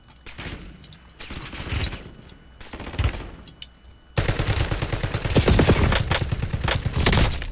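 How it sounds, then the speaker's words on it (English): Bursts of gunfire crack out in short rapid volleys and scattered shots, first spaced apart and then merging into dense, sustained automatic fire that grows louder and more continuous. "Taking effective fire!"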